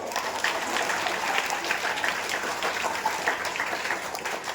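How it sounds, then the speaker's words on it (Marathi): Sustained loud applause from an audience at a school event marking Lokmanya Tilak's death anniversary and Annabhau Sathe's birth anniversary, a dense, even roar of many hands clapping throughout. "एकदा जोरदार टाळ्या होऊन जाऊ दे."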